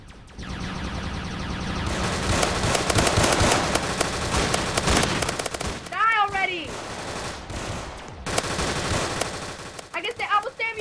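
Rapid automatic gunfire in a video game, loud and sustained bursts layered with game effects and brief voices, pausing briefly before firing resumes.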